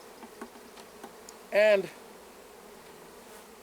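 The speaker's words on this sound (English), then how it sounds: "there are a lot of bees in this box" Honey bees crowded in a hive box at a ranch hive installation give one short, loud buzzing burst up close, with only faint background hum around it.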